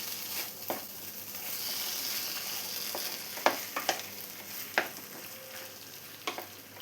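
Kappa (tapioca) with chilli fries in a pan for mezhukkupuratti, a steady sizzle broken by several sharp scrapes and clacks of stirring, close and alone with no talk.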